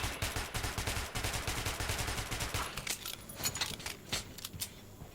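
Rapid bursts of gunfire in the video game Metro 2033 Redux crackle in quick succession, dense and loud at first, then thinning into scattered sharp shots.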